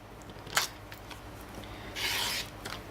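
Rotary cutter or scissors trimming a quarter-inch off the edge of quilt fabric, a soft raspy rubbing and cutting noise with a brief louder swipe and a longer scraping stretch, close and quiet with no talking.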